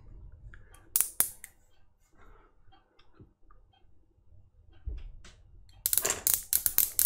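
Clicky push buttons on a homemade Boeing 737 simulator EFIS panel snap sharply, a quick pair near the start and a rapid burst of presses at the end, over a quiet background.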